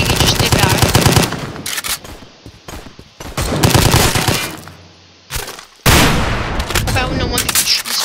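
Rapid automatic gunfire from a gun in the Roblox video game, loud crackling bursts broken by brief pauses, with a long sustained volley at the end.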